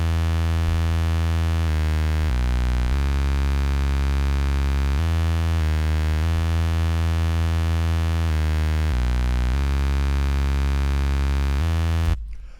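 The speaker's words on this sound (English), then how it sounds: "the preset I used for that is from Surge. Saw lo-fi bass" An unprocessed saw lo-fi bass preset from the Surge synth plays a repeating pattern of sustained, buzzy bass notes that step between a few pitches, loud and continuous for about twelve seconds with nothing else over it.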